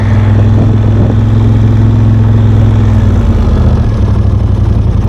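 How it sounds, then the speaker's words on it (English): A small Montana tractor engine runs at a steady, loud, low rumble while plowing snow, its droning hum constant and close throughout. "Yep, that's his little tractor."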